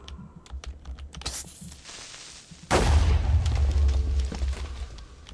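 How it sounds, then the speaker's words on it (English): A Minecraft creeper explosion bursts in suddenly and loud, then rolls into a heavy, rumbling decay after a stretch of quieter, scattered clicking. "one of my data packs prevents creeper explosions from damaging blocks"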